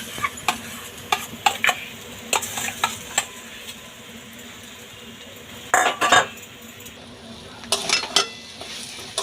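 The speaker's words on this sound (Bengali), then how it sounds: "ভাজা মশলার মধ্যে এবার ম্যাশ করা আলুটা আমি দিয়ে দিচ্ছি।" Mashed potato being stirred into fried spices in a pan for egg devils, with repeated scraping clinks of a utensil over a low, steady sizzle, close and with no talk.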